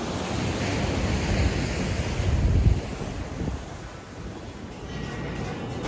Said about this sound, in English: It is so gorgeous, the beach here in San Juan.